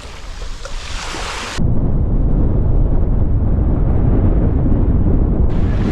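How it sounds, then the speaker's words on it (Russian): Sea waves wash onto a beach in Turkey on a grey spring day. After a quieter opening, a loud, continuous roar of surf takes over, with wind rumbling against the microphone and no voices. "Слушаем звуки моря,"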